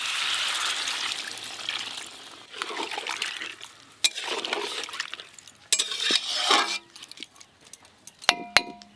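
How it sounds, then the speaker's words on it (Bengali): Potatoes and spices in a pan get water poured over them and stirred, giving a watery slosh with spoon scrapes against the pot and occasional clinks, close up and without talk. "এবার আমি পরিমাণ মতো জল দিয়ে দেব।"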